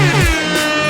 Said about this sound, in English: We like to ration the air horns in the show so we don't overdo them